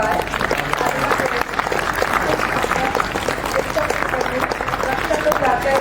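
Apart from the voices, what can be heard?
audience applause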